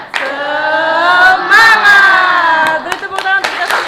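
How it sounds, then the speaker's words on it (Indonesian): A class of schoolchildren performs a spirit clapping routine, their voices chanting together in a sustained, sung shout while sharp hand claps punctuate it, ending in a few distinct claps. "sekalian kita tepuk semangat ya"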